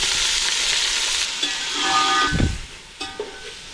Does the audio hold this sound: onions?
yes